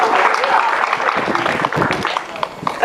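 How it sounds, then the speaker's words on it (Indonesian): Congregation applause for God during a church revival service in Kampung Putaly, a full, continuous burst of clapping from many people that fades slightly toward the end, with some voices mixed in. "Kita beri tepuk tangan buat Tuhan."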